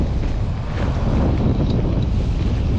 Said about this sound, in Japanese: とりあえず風強いんで